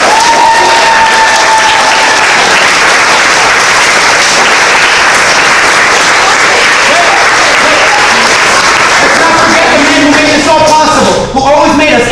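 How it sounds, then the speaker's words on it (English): An audience at a youth talent show breaks into loud, sustained applause lasting several seconds, dense clapping with some cheering mixed in. "let's give you guys a round of applause."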